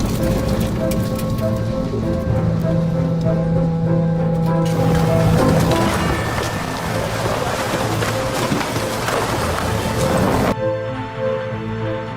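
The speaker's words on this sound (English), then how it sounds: "Amidst the howling winds and torrential rain" Heavy rain pours steadily throughout, a dense, loud wash of noise with a tonal rumble underneath and a brief dip near the end.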